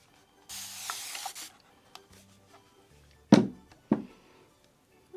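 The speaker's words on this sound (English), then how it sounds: "Where's my spray bottle?" A handheld spray bottle gives a single hissing spritz for about a second, followed by quiet clicks and two louder thuds nearby.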